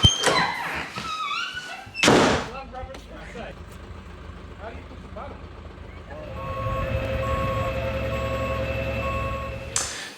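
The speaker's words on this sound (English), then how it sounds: "Can you hear that? That's a truck." Truck on the move with reversing beeps sounding in steady intervals, plus door thunks and a heavy engine rumble building near the end; people talk early on.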